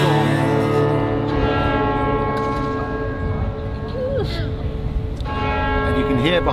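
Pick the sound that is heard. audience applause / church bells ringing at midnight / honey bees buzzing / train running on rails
church bells ringing at midnight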